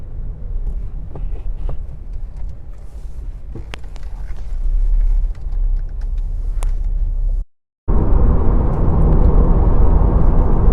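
Car travelling at speed on the M1 motorway in the UK: a steady, loud road and engine rumble with wind noise, broken by a brief dropout near the end.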